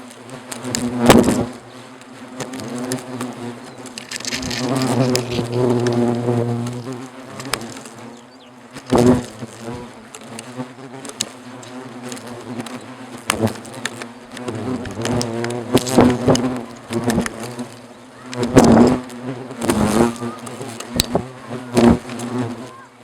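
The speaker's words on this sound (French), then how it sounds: "je vous laisse profiter de la danse des frelons sur la caméra" Asian hornets swarm around their colony close to the microphone, a steady layered buzzing broken by sharp loud passes as individual hornets fly near and bump the lens.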